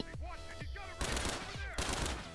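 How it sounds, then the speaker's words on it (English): Burst pistol and burst rifle fire in a video game, heard as quick clusters of sharp gunshots in rapid bursts, loud and close, with a brief pause between volleys. "Sax using the burst pistol to get some strange shots there, and finishing it with the burst rifle"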